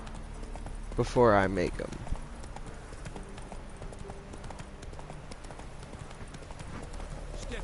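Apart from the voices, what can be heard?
horse Roach's hooves in the video game The Witcher 3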